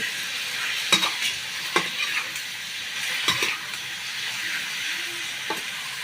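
Pork belly sizzles steadily in a pan for a Thai dish while a utensil scrapes and stirs in a few sharp, scattered strokes close by.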